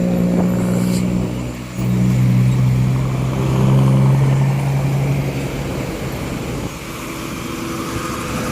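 Road traffic with big lorries on a potholed highway toward Jakarta, loud rumbling engines passing close, swelling and fading as heavy vehicles go by, with no talk.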